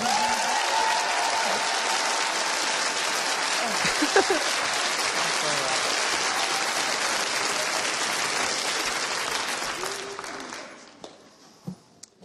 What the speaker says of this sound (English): Give him a round of applause, will you?